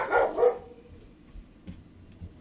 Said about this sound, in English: While she's barking in the background